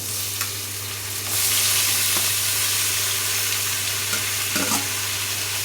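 Tomatoes fry in a pan with a steady, close sizzle that swells after a moment, with occasional stirring scrapes; no talking.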